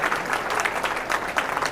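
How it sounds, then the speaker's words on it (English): An audience at a veterinary association banquet applauds platinum sponsors, with steady close clapping from many hands through the short stretch and no speech. "please give them a round of applause for their platinum sponsorship"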